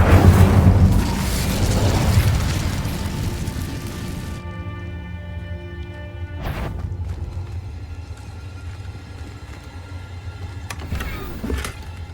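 An Incendio fire spell goes off in the Hogwarts Legacy video game: a loud fiery whoosh and rumble for about four seconds, then a fading ringing tail with a sharp magical burst midway and another near the end.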